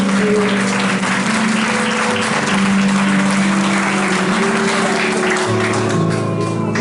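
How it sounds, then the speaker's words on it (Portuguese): A church congregation applauding the Lord during worship, steady clapping from many people spread over sustained keyboard or organ chords that hold and shift underneath. "Por onde você passar, pode aplaudir o Senhor."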